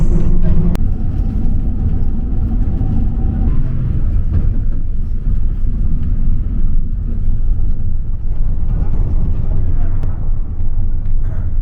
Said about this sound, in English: it's the bus.